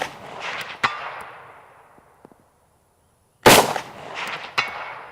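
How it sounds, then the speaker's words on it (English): Two sharp, loud gunshots from an Egyptian Hakim rifle crack out several seconds apart, each followed by a fading echo over an outdoor range, with a brief quiet stretch between them. "Shoot a few more shots."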